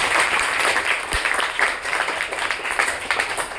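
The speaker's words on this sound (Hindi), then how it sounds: "दोनों के लिए जोरदार 2 बार तालियां" An audience claps loudly for two students who scored 62 marks, a full crowd of hands applauding steadily throughout with one low thud partway through.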